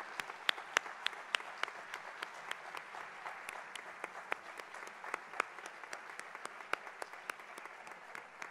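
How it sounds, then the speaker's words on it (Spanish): Steady applause from an audience at a gala against gender violence in Móstoles, Spain, dense clapping with sharp individual claps standing out, sustained throughout without talk. "Por favor, un fuerte aplauso para ellas."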